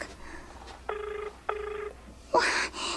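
A cellphone ringing in a drama scene, two evenly spaced electronic ring bursts over a quiet room tone, followed by a brighter, louder noise at the end.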